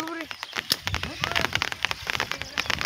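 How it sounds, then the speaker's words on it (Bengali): Heavy rain spatters steadily on a surface with sharp crackling drops, while voices talk intermittently over it. "প্রচুর ভাবে বৃষ্টি চলে এসছে"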